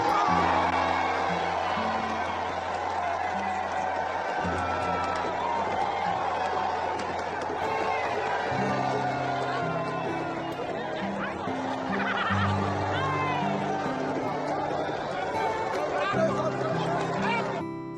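A crowd of supporters greets the new Accountant General of the Federation in Abuja with lively chatter, laughter and cheering hubbub, steady and close throughout.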